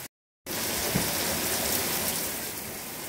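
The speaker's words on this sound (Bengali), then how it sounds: "জমজমিয়ে বৃষ্টি পড়ছে।" Heavy rain pours steadily in the USA, a dense, even hiss of drops that starts abruptly after a brief silence and keeps a constant loud wash throughout, with no voices.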